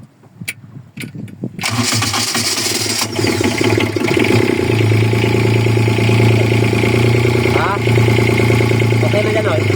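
A machine's engine cranks after a few clicks and knocks, then catches and runs at a loud, steady idle close by while a repaired alternator is tested, with voices talking over it.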